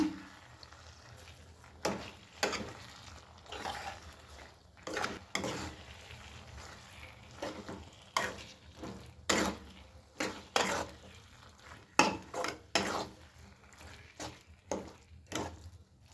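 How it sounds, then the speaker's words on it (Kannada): Street-style gobi manchurian stirred in a pan with a utensil, repeated scraping clacks at an uneven pace over a low steady sizzle, close and fairly quiet. "ಎಲ್ಲ ತಿರ್ಗಾಡ್ಕೊಳ್ಳೋಣ್ರಿ ಇದನ್ನ"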